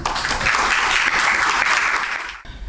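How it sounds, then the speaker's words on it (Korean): A room full of people at a policy forum applauds loudly and steadily, the clapping cutting off abruptly near the end. "큰 박수로 원장님 모시도록 하겠습니다"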